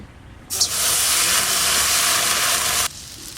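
Water poured into a hot wok after eggplant pieces were lightly fried in oil, a sudden loud hissing burst of steam that holds steady for about two seconds, then stops abruptly into quiet.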